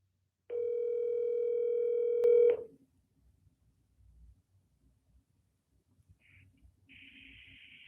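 A telephone ringback tone sounds while a number is being called: one steady, loud tone lasting about two seconds, then near silence with faint line noise.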